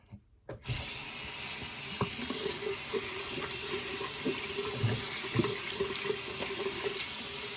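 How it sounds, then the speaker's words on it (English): Tap water runs steadily into a sink as a synthetic shaving brush is rinsed, with a constant splashing hiss, starting abruptly after a brief silence. "Just run underneath the water."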